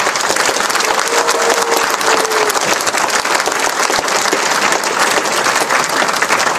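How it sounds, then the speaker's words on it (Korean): Loud, dense crowd applause at a Rebuilding Korea Party provincial chapter founding rally in Wonju, a continuous wash of many hands clapping at a steady level from start to finish. "한번 박수 한번 부탁드립니다."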